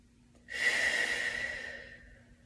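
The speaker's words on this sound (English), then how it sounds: "try to breathe in as deep as you can. Relax the shoulders as you exhale." One long, deep breath drawn in and let out slowly during a relaxing stretch session, close and clear with a soft airy rush, no speech.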